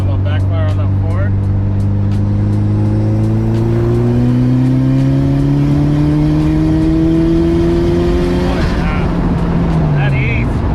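A tuned Mitsubishi Evo making 400 wheel horsepower pulls hard in fourth gear, its engine note climbing steadily and loudly for several seconds before easing off near the end, with voices talking over it.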